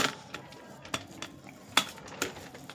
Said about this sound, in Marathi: मी असं मॅश करून घेते ग्लासनं